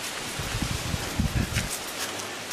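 Gusty wind buffets and rushes past, with low rumbling bursts and a constant airy hiss.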